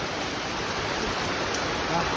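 Heavy rain driven by strong storm winds makes a dense, steady, hissing roar that fills the whole scene.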